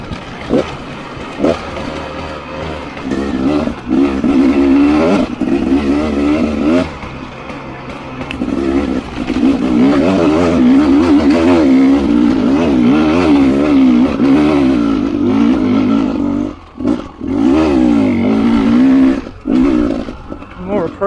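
A two-stroke 300rr dirt bike ridden around a backyard is loud and close, its engine repeatedly revving up and dropping back with throttle blips and short pauses.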